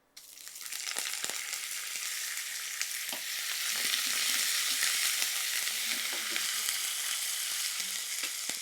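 Curry leaves drop into hot oil in a pan and sizzle loudly, a steady crackling hiss that swells after a sharp start. Faint stirring scrapes and pops run underneath, with no talking.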